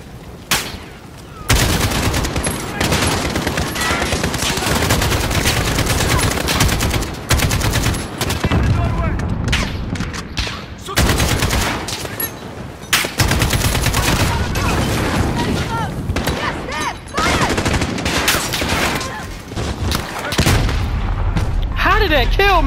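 Rapid gunfire from the video game Call of Duty: Modern Warfare 2, dense bursts and booming shots filling the scene almost continuously, loud and close, with voices talking over it.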